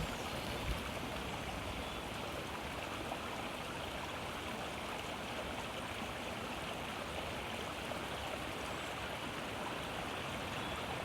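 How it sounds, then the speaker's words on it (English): Continuous rushing of flowing water, steady and full like a nearby stream, with no voices. "taking your attention to the sound of the water, allowing that sound to reach you"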